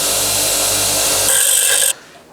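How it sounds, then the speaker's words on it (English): Grinder dressing metal on a custom bicycle frame, a loud steady whir with a high whine that rises near the end before cutting off abruptly. "I'll finish that on the grinder."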